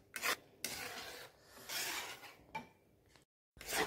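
Semolina cooked with creamy milk in a pan for grape barfi is stirred in repeated raspy scraping strokes, each stroke a short gritty rub of a spoon against the pan, close and fairly quiet, with brief pauses between.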